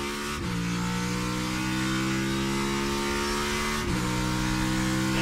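An on-board race car engine holds a steady, loud drone during a practice session in Mexico City, with two quick gear-shift dips as it runs on toward turn 1.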